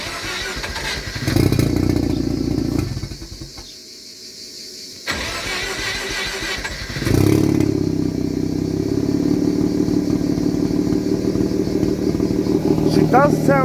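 Engine running after an ignition timing change to 0 degrees: a loud idle and low rumble that briefly cuts out, then restarts and settles into a steady hum with a rising rev at the end, people talking over it.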